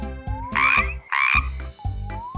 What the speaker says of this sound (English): Kids, do you know which animal goes croak?